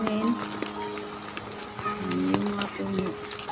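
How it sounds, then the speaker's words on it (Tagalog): Heavy, windy rain falls at a waterside spot during net fishing for tilapia in Toledo City, Cebu, a dense steady hiss with faint tonal sounds rising now and then above it. "Malakas na naman uli ang ulan."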